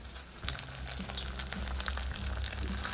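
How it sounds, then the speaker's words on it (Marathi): Leaf vadas (patra vada) frying in a pan of oil, a dense continuous sizzle with crackling pops and a low rumble underneath, close and loud throughout. "थोडंसं मी आता फ्राय करतो आहे"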